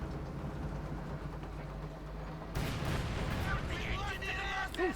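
Artillery-style gunfire in Company of Heroes 2, a 1v1 match with Soviet forces against the Wehrmacht: a sharp blast midway through a busy battle mix of rumbling explosions and distant fire, with a voice talking underneath.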